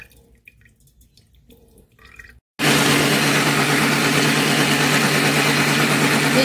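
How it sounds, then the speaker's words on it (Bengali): A kitchen mixer grinder blends fruit, ginger and rice for a Hindu nabanna puja offering; after a few seconds of near-quiet, the motor cuts in abruptly with a loud, steady, dense whirring roar that holds to the end. "এবার এক এক করে সবটা মিক্সিতে ঢেলে দেবো।"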